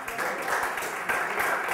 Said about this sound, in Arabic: صفقوا لهم شباب